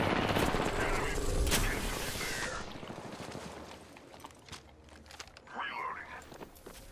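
Video game gunfire crackles in dense bursts during the first few seconds, then thins to scattered shots with game sounds and a faint voice murmuring underneath.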